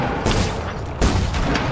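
Dense, rapid gunfire from a video game plays as a continuous loud barrage with a heavier burst near the end, with no talk over it.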